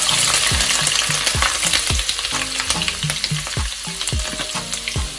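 Garlic and ginger sizzling in a pan for Hakka noodles, a dense close crackle of frying with repeated scraping stir strokes and metallic clinks keeping a loose rhythm throughout.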